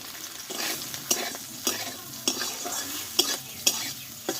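Soaked soybean chunks fry in a little oil in a wok, a steady sizzle broken by repeated sharp scrapes and clacks of stirring, close and fairly loud, with no talking.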